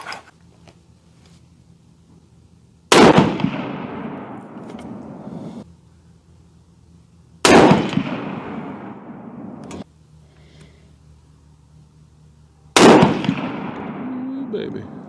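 Three loud, close shots from a .30-06 rifle firing Remington Core-Lokt copper 150 grain rounds, each a sharp crack with a long ringing decay, evenly spaced several seconds apart.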